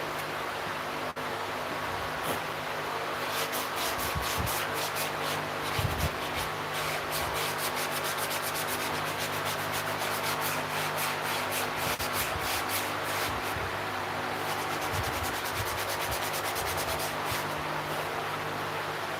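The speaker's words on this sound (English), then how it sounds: "I got my little sanding block somewhere, but there it is, right there." A sanding block rubs back and forth across red cedar scrap wood in steady repeated strokes, making a close, dry, hissing scrape with no talking.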